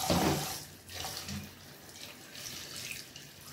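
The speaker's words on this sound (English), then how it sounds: "I'm gonna go ahead and add some warm water to it" Warm water runs from a kitchen tap to rinse callaloo for a Jamaican saltfish dish. A close, steady hiss of flowing water begins strong and settles into an even stream, with a few small splashes.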